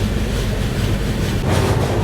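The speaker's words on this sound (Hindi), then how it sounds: "अब देखो अपनी ट्रेन भी स्पीड अप हो रही है।" East Coast Express train running steadily and picking up speed, a continuous loud rumble of wheels on rails with rattling carriage noise and no talk.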